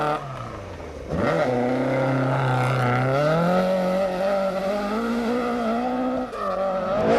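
A BMW M3 rally car on a stage of the 1996 Donegal International Rally, its engine revving hard and climbing through the gears with tyre squeal, loud and close throughout.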